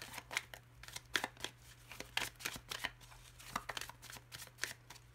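A deck of playing cards being cut and shuffled close up, a quick run of crisp, papery riffles and taps coming in uneven bursts over a low steady hum.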